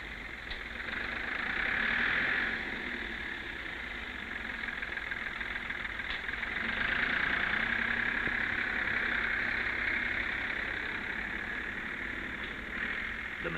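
A 1964 Ford Major 4000 tractor engine runs while working with a front-end loader. It gives a continuous, moderately loud drone that swells and eases slightly over time.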